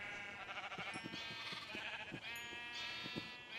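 Sheep in Minecraft bleat over and over in a dense layer of game sound, with shaky, wavering calls running continuously through it.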